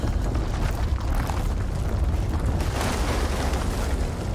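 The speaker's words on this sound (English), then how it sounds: "Oh, I heard some gunfire." Gunfire in the horror video game House of Ashes comes as a dense, loud rumbling barrage of booms and bursts, filling the whole stretch with heavy low-end roar and no talk.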